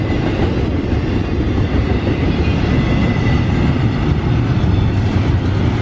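A freight train with cargo containers rolls steadily along the rails, a loud, continuous rumble with a dense rattle and faint clatter, heard from close by with no talking.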